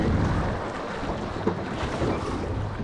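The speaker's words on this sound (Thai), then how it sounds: "ดูคลื่นทะเลน้ำจืด นี่ อคลื่นโคตรสูง" Strong wind drives high waves across a large freshwater lake during a fishing outing, making a continuous loud rushing roar with gusty buffeting close to the microphone.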